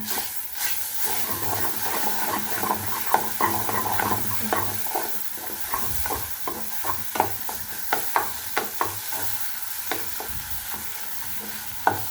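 Spoon stirring fried black cumin into a mashed papaya bhorta, a steady scraping with repeated sharp clicks against the pan over a soft continuous sizzle, close and alone with no voices.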